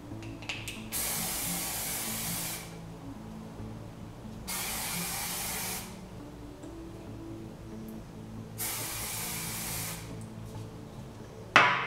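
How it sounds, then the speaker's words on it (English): Hairspray is misted onto wavy hair in three distinct hissing bursts of a few seconds each, separated by short pauses, close and clear without talk. "now you can definitely go ahead and apply a hairspray"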